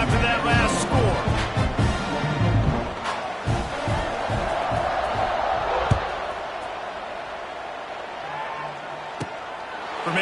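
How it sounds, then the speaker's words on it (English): Stadium crowd in an NCAA college football video game keeps up a dense, steady roar of buzzing voices, with sharp impact thuds in the first seconds and a game commentator talking over the top. "this crowd is buzzing after that last score"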